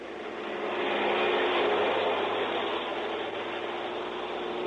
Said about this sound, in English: Then a ferry plane to Sarasota